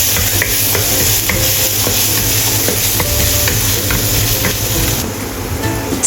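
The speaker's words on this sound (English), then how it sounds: "Stir-fry chopped garlic." Chopped garlic stir-fried in a pan, a loud, close, continuous sizzle with rapid scraping and clinking of a spatula throughout, with no talk.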